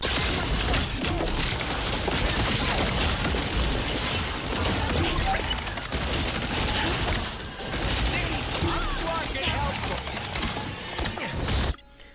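Constant gunfire and mechanical clatter from a frantic Marvel Rivals match, with dense overlapping shots and impacts going on without a break and then cutting off sharply at the end.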